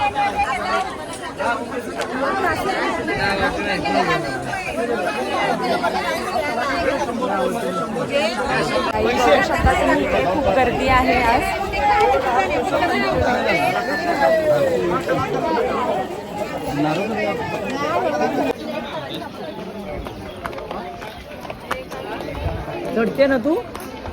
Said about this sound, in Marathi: आज किती गर्दी आहे